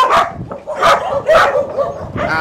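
Many dogs bark and yip together at close range, a dense overlapping chorus of loud barks with some whimpering, from a large group of around a hundred dogs kept on a river in the Mekong Delta.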